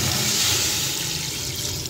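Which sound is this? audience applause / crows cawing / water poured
water poured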